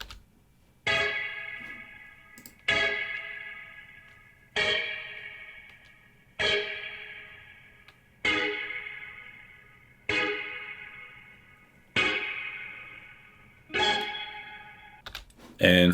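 Sampled stabs land on the snare positions of a beat, eight bright brassy hits spaced evenly about every two seconds, each ringing out and decaying before the next, loud and alone.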